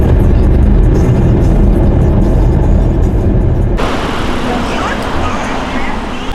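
Road noise inside a moving car, a steady low rumble of engine and tyres that shifts in character partway through, with no words spoken.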